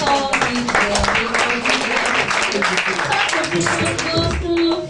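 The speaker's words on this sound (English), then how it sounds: "let's give a round of applause because they all did well" Crowd applause at a scholars' awards ceremony, a dense, steady wash of clapping filling the room throughout, with voices and cheers mixed in.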